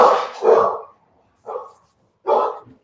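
A dog barks three times up close, a quick double bark followed by two single barks spaced about a second apart, with no talking over it.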